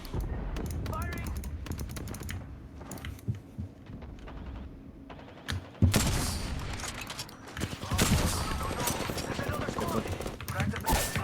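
Gunfire rattles through a busy Apex Legends match, with bursts of automatic shots amid clattering game effects and keyboard clicks, loud and close, as players talk over the action.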